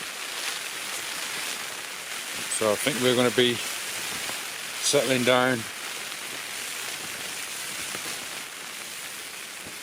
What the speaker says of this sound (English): I'm sure you can hear it. The rain's come in.